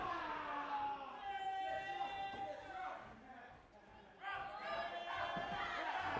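A pro wrestling crowd at an APW 2015 IPW championship match cheers and chants in rhythmic waves, filling the hall. It briefly dips, then surges again, while a commentator talks over the noise.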